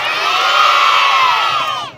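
A crowd at a riverside event cheers and shouts together in one loud, sustained roar of whoops that rises and then fades over about two seconds.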